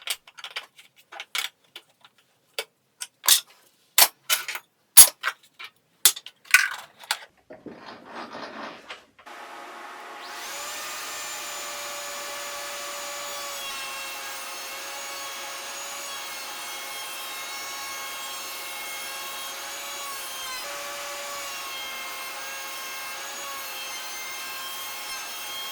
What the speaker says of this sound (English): I'm using a 3/4 inch round over bit to achieve the handle detail.